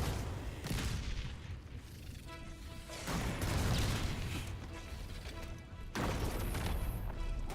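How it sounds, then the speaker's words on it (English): Fuel rod cannon shots explode in the video game Halo: Campaign Evolved, three loud booming blasts about three seconds apart, each followed by crashing, rumbling debris, with no talking. "Why does the fuel rod cannon do that?"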